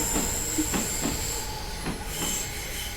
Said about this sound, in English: There goes another Keihin-Tohoku train.